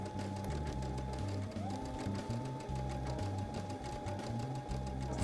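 A sewing machine runs steadily up close, stitching a zigzag blind hem on the inside of a pant leg, its rapid mechanical chatter continuous with slight shifts in pitch.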